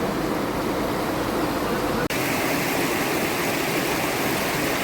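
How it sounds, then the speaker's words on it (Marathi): A river in steady, moderate flow runs over rocks, a dense continuous rush of water heard close and fairly loud, with a brief dropout partway through and no talking. "तर संत गतीने असं नदी वाहत आहे"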